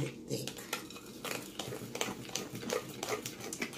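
Banana cream pie filling stirred by hand in a bowl, a steady run of soft scraping and clinking taps from the utensil against the dish, moderately close with faint background sound.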